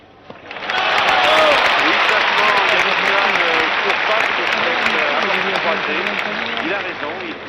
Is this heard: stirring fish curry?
no